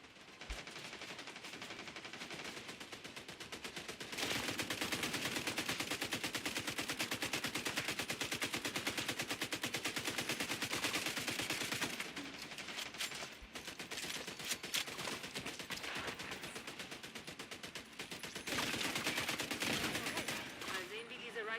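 A gun turret in The Division 2 fires long, rapid automatic bursts, loud and continuous with short pauses between the volleys.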